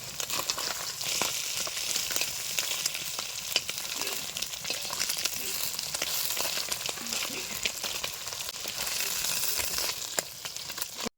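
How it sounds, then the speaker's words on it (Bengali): Amudi (ruli) fish frying in a pan of hot oil, giving a loud, steady sizzle with dense crackles and spits that run unbroken throughout, with no voices. "আমার কিন্তু এখানে মাছ ভাজা প্রায় হয়ে গিয়েছে"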